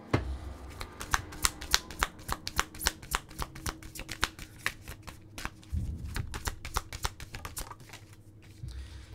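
Tarot cards are shuffled and drawn by hand, giving a close, rapid run of crisp riffling flicks, with brief pauses and a soft shuffle of cards being handled near the end.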